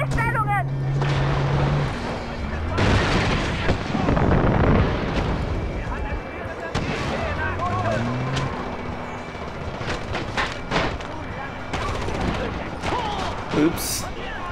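Booming explosions and bursts of gunfire from the video game Far Cry 4 play over a dense, noisy mix, with a voice speaking German through much of it.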